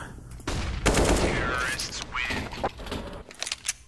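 Bursts of gunfire ring out during a professional Counter-Strike: Global Offensive esports semi-final match between MouseSports and BIG, with rapid shots blending into game effects while a commentator talks over the action.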